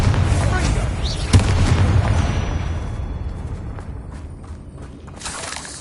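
In Hogwarts Legacy, a Confringo blasting spell goes off with a loud boom and a sharp burst, then a rumbling roar that fades gradually into quiet.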